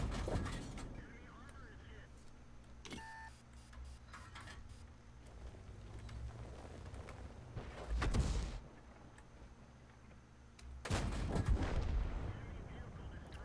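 Tank cannon fire in a tank video game: a few heavy, booming shots spaced several seconds apart, with quieter rumbling battlefield noise between them.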